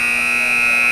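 A basketball game buzzer at a high school game sounds one steady, loud electronic tone that holds for the whole second, alone with no talk.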